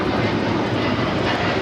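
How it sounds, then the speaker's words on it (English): United Airlines Boeing 787-9 Dreamliner rolling down runway 25 right, a sustained loud roar of jet engines held steady across a short stretch. "United Dreamliner now rolling down that 25 right"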